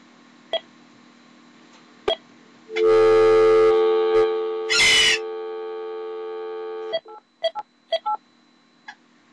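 Telephone keypad tones dial the Windows XP product activation number, with scattered short beeps, a loud burst of held tones and a noisy crackle in the middle, then a few more quick dial tones near the end.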